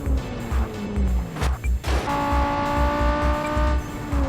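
A race car in a racing video game revs hard around a track, its engine note rising and dropping between gear shifts with brief tire squeal, loud and close with no talking.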